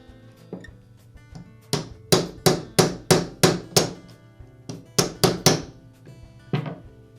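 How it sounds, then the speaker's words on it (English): A socket used as a driver taps a bearing's outer race into the gear housing cover of a Makita angle grinder. Roughly a dozen sharp metallic taps land close up in quick bursts of three to five, with short pauses between the bursts. "use a socket that has a diameter the same as the outer race on the bearing to tap it into place"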